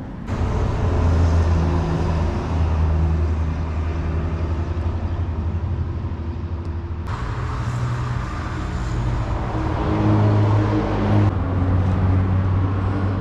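Truck passes on a road in Nova Serrana, Minas Gerais, a low engine rumble and tire roar swelling and fading amid steady roadside traffic noise, with a sharp change in the passing sound midway.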